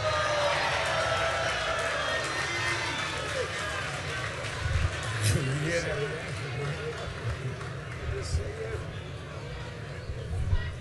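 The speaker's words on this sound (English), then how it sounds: "You hear that cheer for you." Crowd cheering at a National Action Network convention in New York City, a broad roar of voices and applause filling a large hall, steady with a few louder swells.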